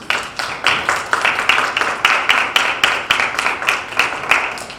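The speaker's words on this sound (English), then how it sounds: "So a big round of applause for these beautiful ladies." A round of applause from the audience at a Kiwanis club officers' installation, steady and fairly loud with dense overlapping claps lasting throughout, no talking over it.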